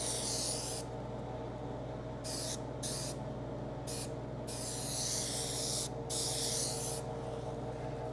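Spray adhesive hisses steadily as a coat goes onto a 1967 Firebird convertible top, a close, continuous spray broken by several short pauses between passes.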